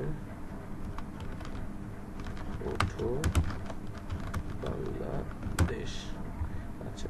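Computer keyboard typing while building an HTML web page, a light, uneven run of keystrokes with a few sharper taps. Someone talks softly over some of them.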